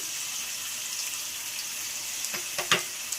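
Ivy gourd masala curry with salt, turmeric and ginger cooks in a pan with a low steady sizzle, then a few sharp stirring scrapes and clatters near the end.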